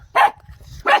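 A dog at a village house gives two sharp, loud barks about two-thirds of a second apart, close by, with faint background rumble between them.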